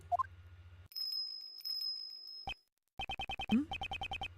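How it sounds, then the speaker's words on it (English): A bell-like electronic ringing in the video game Ace Attorney Investigations 2, with rapid repeated bright chimes in quick bursts, a sustained high tone and short game blips, clean and loud with no voices. "Is that a bell?"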